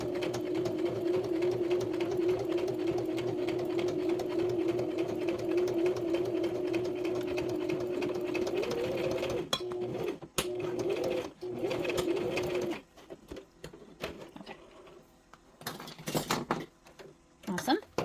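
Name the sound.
sewing machine stitching a seam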